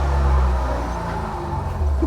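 Worn clutch throw-out bearing in a dirty BMW E30 M3, a low grinding drone with a whirring overtone that wavers slightly as the clutch is worked, close and steady throughout.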